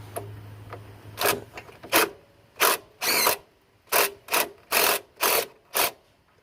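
A ratchet works loose a 10 mm bolt on the fuel filler neck of a 2000-03 Nissan Maxima, giving a steady series of about ten close, evenly paced rasping clicks with no talk.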